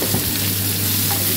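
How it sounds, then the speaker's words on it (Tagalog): Ingredients for pompano escabeche sauté in a pan, a loud continuous close sizzle over a low steady hum. "Ang gisa-gisa lang."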